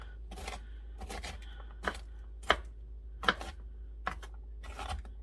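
Knife chopping celery on a board for cornbread dressing, a series of soft irregular cuts in small clusters over a low steady hum, close and fairly quiet, with no one speaking.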